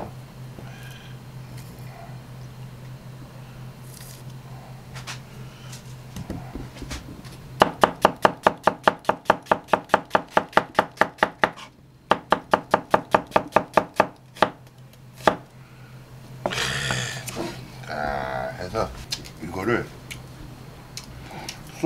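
Knife chopping braised Korean pig's trotters (jokbal) on a board: a long run of rapid, even, loud chops in two bursts, with talk and kitchen noise before and after.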